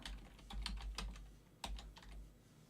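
Typing on a computer keyboard while scripting in Unreal Engine 4: a quiet run of separate clicky keystrokes, uneven in rhythm with a sharper tap near the middle, close and alone with no talk.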